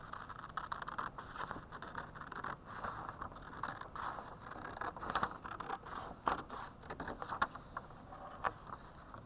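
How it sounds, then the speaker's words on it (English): Scissors cutting paper strips, with a steady run of close, dry snipping and rustling scrapes that continue throughout. "I'll cut out my strips here."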